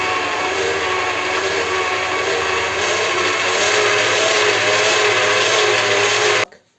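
An electric meat grinder grinds liver, onion and a slice of soaked bread, giving a loud, steady motor whine that runs without pause and cuts off abruptly at the end.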